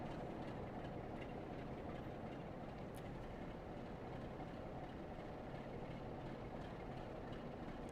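A train in a train simulator video game runs with a steady low rumble and faint rhythmic clacking, with a diesel locomotive nearby, a constant even drone without voices.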